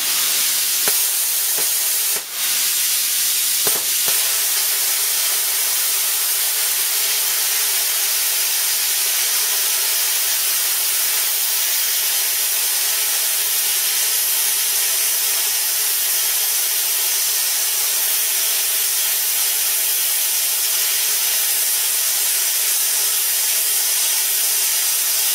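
Plasma cutter slicing through half-inch steel plate freehand with the standoff guide removed, a steady loud broadband hiss and roar running continuously throughout after a brief start.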